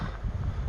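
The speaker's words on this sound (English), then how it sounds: "I don't know if you can hear it, but it's pretty windy too right now." Steady wind buffets the microphone on a mountain backpacking trail with a low, rumbling roar that fills the whole moment without a break.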